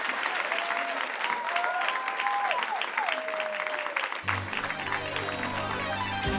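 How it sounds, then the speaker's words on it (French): Continued crowd applause for three talk speakers at a live show, steady clapping with a few whistles; partway through, a low droning musical hum enters beneath the clapping. "Vous pouvez encore les applaudir."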